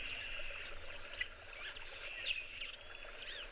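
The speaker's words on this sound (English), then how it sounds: "Hearing all sorts of birds." Wild birds call at sunrise on a safari by the water, a few thin chirps and whistles scattered over a steady low breeze rumble, fairly distant and faint.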